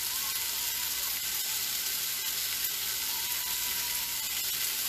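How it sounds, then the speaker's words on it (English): Steak sizzles and crackles in a hot pan, a steady hiss with scattered pops, heard close up and without voices. "some of the frying has gone down just a little bit"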